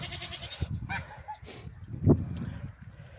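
A goat bleats once, fairly close, amid scattered farmyard noises and other animal calls.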